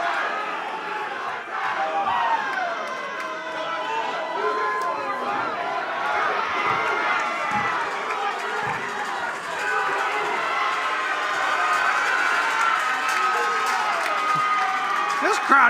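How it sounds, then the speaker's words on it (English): A wrestling event crowd cheers and yells steadily for the whole stretch, a dense, loud roar of many voices with shouts rising and falling, with no break. "Oh, the crowd is getting excited now."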